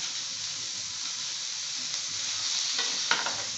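Yakisoba noodles being stirred and frying on a hot griddle, a steady broad sizzle with scraping stir strokes and a few sharper clacks near the end, close and continuous with no talking.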